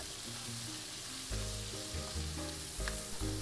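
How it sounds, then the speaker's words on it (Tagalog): Garlic sautéing in hot butter in a pan, a steady hissing sizzle heard close up, with low musical tones playing underneath. "Since mainit pa rin ang butter, igisa na natin ang bawang."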